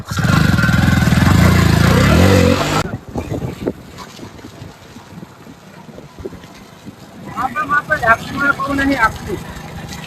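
A motorcycle engine roars loudly and close for a few seconds, then cuts out, leaving people talking nearby.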